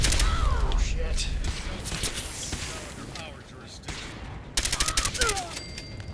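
Fallout 4 gunfire in a Sim Settlements 2 game crackles through repeated bursts of rapid shots, loud and close, with fainter shots between and a final sharp volley, while someone talks over it.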